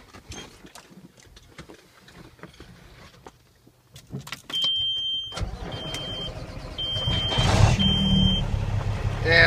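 A 2003 Kenworth T800H dump truck's engine cranks and catches after a quiet stretch of clicks, then settles into a steady, close rumbling idle, accompanied by repeated high electronic beeps.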